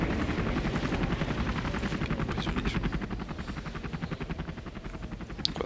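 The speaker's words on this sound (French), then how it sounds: "Hélico au rapport. Soutien aérien en route." Helicopter rotor chopping steadily throughout as air support arrives in the real-time strategy game Command & Conquer: Generals, loud and close with a dense pulsing beat, with faint mechanical and battle noise mixed in and no talk.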